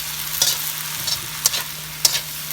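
Smoky pork and vegetables are stirred in a frying pan over a steady sizzle, with three distinct scraping strokes of the utensil spaced about a second apart, close and moderately loud.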